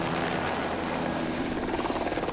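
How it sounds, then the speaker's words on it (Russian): Helicopter in the mountains, a loud, close and steady rotor thrum with rapid blade chop throughout. "Как только вертолет улетел"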